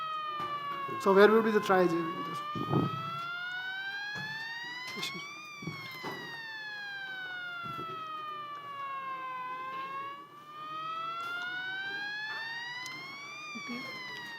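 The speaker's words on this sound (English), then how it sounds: "the ambulance is here" An ambulance siren wails in rising and falling sweeps as it arrives at a medical simulation exercise, steady and fairly distant, while people talk over it near the start.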